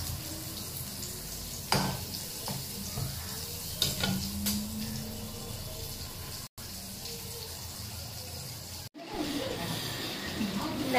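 Pointed gourd (kakrol) frying in a pan gives a steady, close sizzle with a few sharp clinks of stirring and two brief dropouts near the end.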